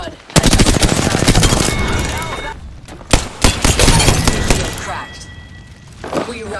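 Gunfire in the battle game Apex Legends, with loud, rapid automatic bursts and cracks that break off and resume, and voices talking over the shooting.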